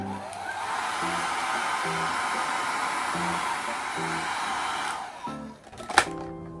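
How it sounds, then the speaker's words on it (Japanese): A hair dryer blows steadily while hair is styled, a loud even broadband rush that runs for about five seconds before it is switched off, with a few light handling clicks after. "ドライヤーをします。"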